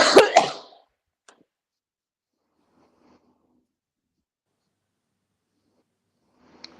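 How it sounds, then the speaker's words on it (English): A single short cough bursts out near the mic at the start, followed by near silence with a faint click and a few soft rustles. "I just had a cough."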